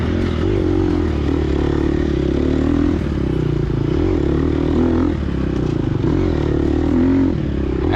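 A Gas Gas EX250F dirt bike racing in a harescramble, its engine droning loud and near without pause, pitch wavering slightly with throttle changes amid clattering and scraping.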